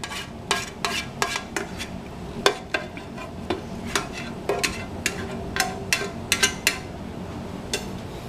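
A seasoned beef mixture is added to a cornbread mixture and stirred in a pan, producing a steady run of clinks and scrapes from a utensil against cookware, fairly close and with no talking.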